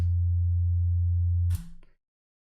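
An 808-style sub bass made with Ableton Operator sounds as a deep, pure sustained tone that cuts off after about a second and a half, followed by a short noisy tail, silence, and another brief attack.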